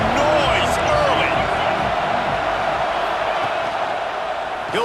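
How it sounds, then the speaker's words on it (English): Stadium crowd roar at a college football game between Penn State and Iowa, a loud continuous din of voices and cheering that runs throughout, under a commentator's play-by-play talk. "This crowd bringing the energy and noise early."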